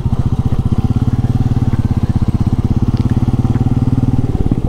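Motorbike engine running steadily at close range on a rainy monsoon hillside stop, with a fast, even low-pitched putter throughout and no talk over it.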